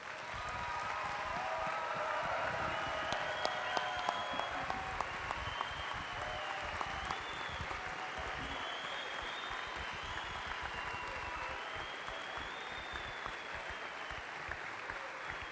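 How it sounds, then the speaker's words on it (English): Sustained applause from a crowd in an arena at a men's college basketball senior night ceremony, honoring a senior player; steady, dense clapping fills the whole stretch with a few sharper claps standing out. "please give him one last round of applause"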